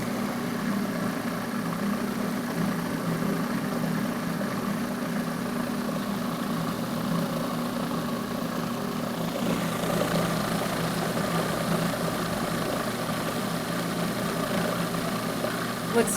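A mixer spins a creamy chocolate mixture in a steady, continuous motor drone that holds at an even level and shifts slightly in tone partway through, with no talking.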